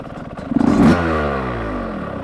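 A 2025 Yamaha YZ125X two-stroke dirt bike running premix, sitting in neutral, gives a loud close rev blip that drops back to an uneven idle.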